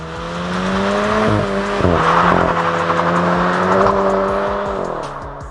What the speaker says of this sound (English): I have been hearing less of the VW Studio production exhaust tune.